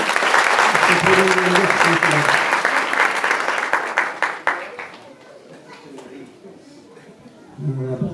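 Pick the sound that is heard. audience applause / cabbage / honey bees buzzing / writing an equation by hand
audience applause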